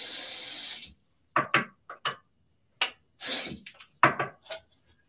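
A tap runs water to soak a soft-tipped badger shaving brush, a loud rushing spray for under a second, followed by several short splashes and knocks as the brush is worked in a bowl nearby.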